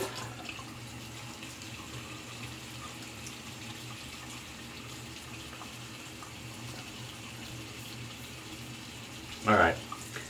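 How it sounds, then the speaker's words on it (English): A tap runs steadily while shaving soap is rinsed away, giving a constant close water hiss that lasts throughout, with a short louder splash near the end. "We're gonna rinse the soap out here."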